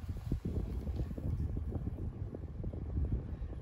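A Westinghouse 16-inch pedestal fan runs at a middle speed setting, giving a steady low whooshing hum with soft fluttering pulses from the blades, close and continuous with no talking.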